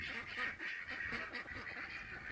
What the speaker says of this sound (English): Apparently the ducks don't understand why they can't go swimming.